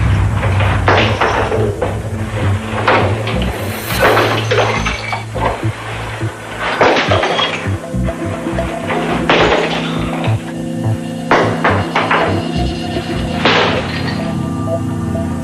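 A glass beer bottle is pushed over and shatters on the ground during a forensic experiment, giving repeated sharp crashes and tinkling glass over a steady low hum.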